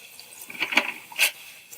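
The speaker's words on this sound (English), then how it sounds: "Make sure you wash your hands with soap" Hands being washed with soap under a running tap at a sink, a few soft splashy bursts of water over a quiet background, close and fairly faint.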